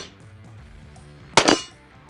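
A single sharp, loud gunshot from an original 1881 gun cracks out after a quiet moment, its report ringing briefly before it fades.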